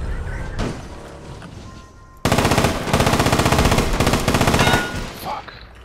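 Rapid automatic gunfire in the online shooter APB: Reloaded, a sustained loud burst of closely spaced shots lasting a few seconds after quieter game ambience, with no voices over it.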